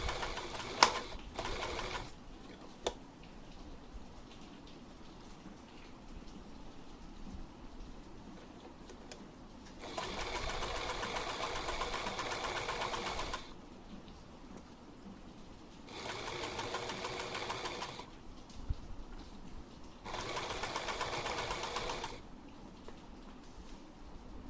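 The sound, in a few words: sewing machine sewing fabric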